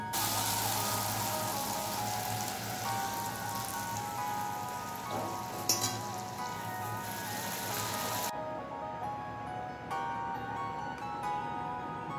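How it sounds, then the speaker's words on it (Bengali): Eggplant slices fry in a pan with a steady, dense sizzling hiss that sounds like rain, holding an even level for about eight seconds before it drops away abruptly. "বেগুন ভাজা হচ্ছে"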